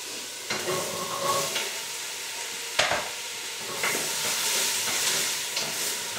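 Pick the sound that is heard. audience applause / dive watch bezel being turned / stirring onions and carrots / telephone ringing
stirring onions and carrots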